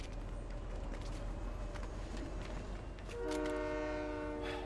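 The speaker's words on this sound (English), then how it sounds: "It is the train." A train rolls past in the video game Fortnite with a steady, loud rumble, then a long, bright horn blast sounds near the end and holds to the close.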